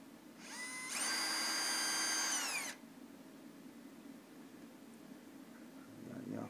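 A power drill backs out a screw during a winch rope splice, whining steadily for about two seconds at close range before stopping, with quiet handling noise afterward.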